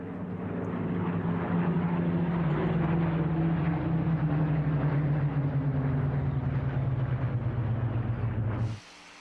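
A vintage warbird at the Duxford Flying Legends air show runs in and brakes, a loud propeller engine drone holding steady and then sliding slightly lower over about nine seconds before cutting off abruptly.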